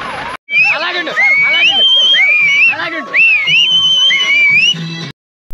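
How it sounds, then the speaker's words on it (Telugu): An ambulance siren wails through heavy early-morning traffic on the way to Srisailam, a loud, close, rising and falling electronic tone that repeats in long sweeping cycles, cutting off briefly near the start and the end. "అంబులెన్స్కి సైడ్ అవ్వడం కోసం అయితే మొత్తం అంతా క్లియర్ చేస్తున్నారు"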